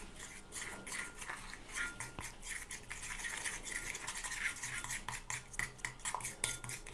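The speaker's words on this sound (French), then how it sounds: "On va rajouter de l'huile et on va tout mélanger." Hair care paste is stirred together with oil in a bowl, giving rapid rhythmic clinks and scrapes of a utensil against the container, close and fairly soft.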